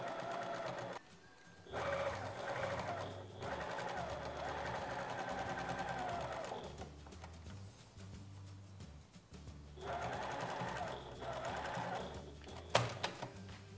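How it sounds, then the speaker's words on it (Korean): A sewing machine stitching three stacked fabric layers together for a hip sack, running in steady whirring bursts with short stops in between, close and fairly quiet. "요 세 장을 가볍게 봉제를 하셔서 아까 만들어둔 몸판하고 합독을"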